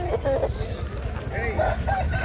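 At the Gudur rooster market, roosters crow and cluck in short repeated calls, near and fairly loud, amid the bustle of people talking.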